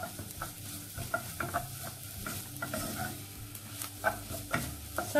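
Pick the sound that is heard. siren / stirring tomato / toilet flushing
stirring tomato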